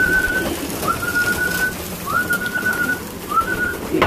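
A pigeon being fed coos in repeated, drawn-out tonal calls over a steady, noisy background.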